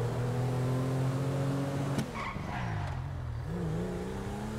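A car driving in GTA Online, steady engine drone with harmonic tones, a sharp click then a brief dip and shift in engine pitch before the hum resumes, moderately loud.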